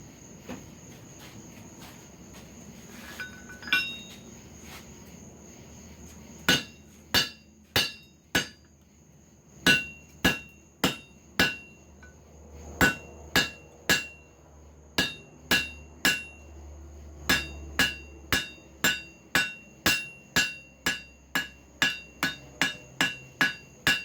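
A hammer rings sharply on a mild steel hot cut, cutting a steel piece, again and again, starting with scattered blows and settling into a fast, steady rhythm of metallic strikes, close by.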